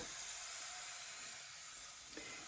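A steady, soft hiss of oil sizzling in a hot frying pan as pancakes cook, continuous and close, with no talking.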